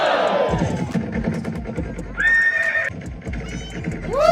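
A circus horse neighs loudly as it jumps back and forth over a pole at a village circus, with hoof clops and crowd noise around it and a second whinny rising near the end.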